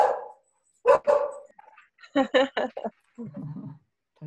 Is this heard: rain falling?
no